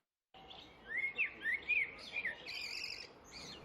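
Birds chirp and warble in quick, bright bursts in Moselle, France, a few close whistled phrases rising and falling over quiet background noise.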